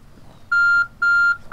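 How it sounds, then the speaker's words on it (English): A timer in the video game Ancestors sounds three clear electronic beeps, each evenly spaced and loud, with the third cut short. "Oh, there's the timer."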